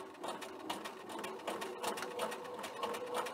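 A sewing machine runs steadily through a backstitching seam, its needle pumping in a fast, even rhythm that is close and moderately quiet, with no talk over it.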